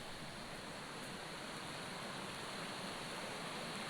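The Jackson Falls waterfall in New Hampshire on a summer morning gives off a faint, steady broadband rush of water with no pauses.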